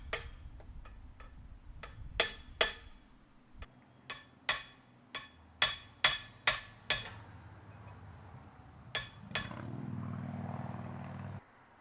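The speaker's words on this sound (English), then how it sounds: "Cold chisel always works good after you've cut a slit. Just hammer it open." Sharp metal-on-metal hammer strikes on a cold chisel splitting a wheel bearing on a 2005 Toyota Tundra rear axle ring out at an uneven pace, about a dozen clear blows, followed by a low rumbling noise at the end.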